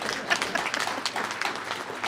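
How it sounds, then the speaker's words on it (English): An audience at a 2024 university commencement ceremony in Idaho Falls claps in a dense, sustained burst of applause filling a large hall, steady and moderately loud throughout. "I'd like another round of applause for that 47 years of marriage"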